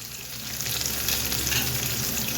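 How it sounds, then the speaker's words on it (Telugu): Onions fry in a hot pan for a beetroot and coconut curry, a steady, close sizzle that swells slightly as it goes, with no talking. "ఇప్పుడు ఉల్లిపాయలు వేగుతున్నాయి కదా"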